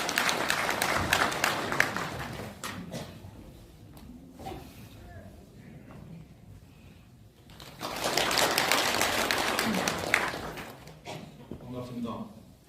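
An audience at a Korean political event applauds to welcome a former Hyundai Motor president, two loud bursts of crowd clapping with a quieter stretch between where a voice speaks.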